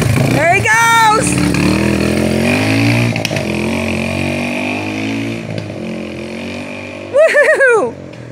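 Engine of a Yamaha TTR 230 dirt bike with a dirty carburetor, a steady ragged drone running throughout, with people talking over it and a brief sharper rise near the end.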